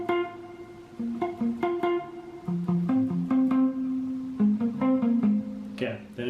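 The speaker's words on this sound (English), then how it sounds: "Now we're going to learn the riff that's used in the second verse" Electric guitar playing the second-verse riff of a song, a clean single-note melodic line with steady plucked rhythm, moderately quiet and close, with no talking over it.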